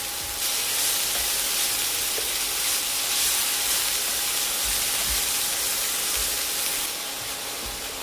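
Chopped spinach leaves fry in a pan, giving off a steady, close hiss and sizzle that continues evenly throughout, without any speech.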